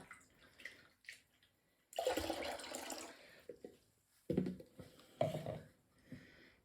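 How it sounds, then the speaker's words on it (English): Passion fruit juice poured into a container while making honey, lemon and passion fruit vinegar, arriving as a few short splashing bursts separated by quiet gaps. "So let's just add in our passion fruit juice."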